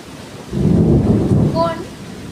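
Thunder rolls through a storm with lightning and only light rain at Khadpoli, a loud low rumble swelling for about a second before fading, followed by a brief faint tonal chirp.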